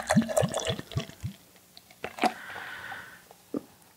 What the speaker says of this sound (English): That's a pretty good pour.